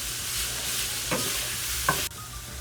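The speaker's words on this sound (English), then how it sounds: "I'm just going to keep stirring this and moving it around until it browns up." Mushrooms sautéing in a hot pan sizzle in a steady, close hiss, with a couple of brief scraping stirs as they are moved around.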